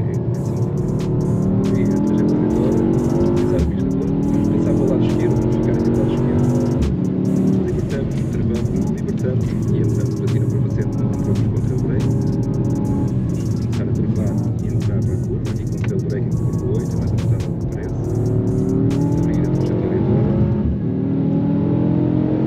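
A Mercedes driving hard on the Algarve race circuit, its engine loud and continuous, rising and falling as it revs through the gears and corners, with a driver talking over it.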